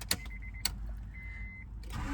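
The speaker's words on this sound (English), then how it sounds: "that characteristic 1990s Honda Acura startup sequence" A 1997 Acura 2.2CL with a 5-speed gives its startup sequence: two sharp clicks, then a steady low idle-like hum with a thin electronic whine and a brief chime-like tone, close and alone.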